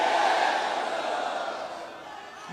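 Crowd at a Bilawal Bhutto Zardari election rally in Larkana, a dense roar of many voices chanting loudly, then fading slightly over a couple of seconds.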